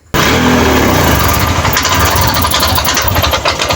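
236cc motorcycle engine with a clogged injector running loud and close, a rough steady rumble with an uneven knocking beat throughout.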